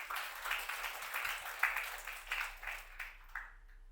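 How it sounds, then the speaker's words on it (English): A conference audience claps for themselves, a soft, fairly distant patter of scattered hand claps swelling and fading in uneven waves before trailing off. "So if you are here, clap for yourself for being here."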